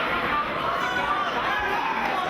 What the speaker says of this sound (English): Very vocal crowd looking on as these two rivals lock up.